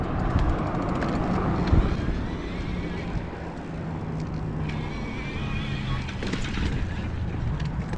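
A Specialized Turbo Levo SL Expert Carbon e-bike and its SL motor labor up a flight of stairs, a rough mix of motor whine, tire scrabble and wind buffeting the microphone, close and fairly loud throughout.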